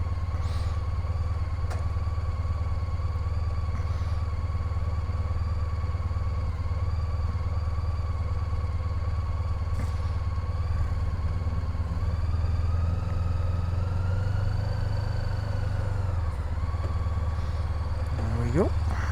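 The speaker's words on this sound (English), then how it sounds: "This one just sat on the pump with the engine running." A Honda Pan European ST1300 motorcycle idles at a fuel pump just after a service, a steady, close, even engine drone with a faint whine that shifts slightly near the end.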